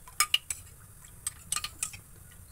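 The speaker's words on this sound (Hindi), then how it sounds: "इसमें कॉर्नफ्लोर डाल देंगे 2 चम्मच डाल के इसको अच्छी तरह से चला लेंगे जिससे इसमें गांठें ना बने" A spoon clinks sharply against a bowl while stirring cornflour and water, a quick run of bright taps close up over a quiet background.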